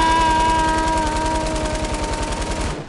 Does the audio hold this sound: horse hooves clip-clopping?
no